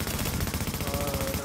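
A light machine gun fires in a video game, a fast, steady stream of loud shots filling the whole moment without a break.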